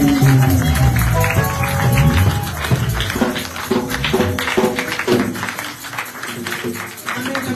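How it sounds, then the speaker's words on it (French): Church congregation at a mothers' convention clapping and cheering in acclaim, a dense, sustained wash of applause and voices with rhythmic beats and musical tones running through it. "nous allons acclamer, applaudir pour la gloire"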